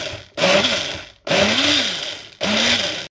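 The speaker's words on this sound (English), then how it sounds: "I'm gonna grind it with entire milk." A blender grinding bananas, milk and vanilla essence: three loud motor bursts with a rising whine, separated by short pauses, close and harsh.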